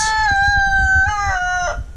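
A rooster crows loudly and close by at a backyard chicken coop, one long rising-and-falling cock-a-doodle-doo call with no voices over it.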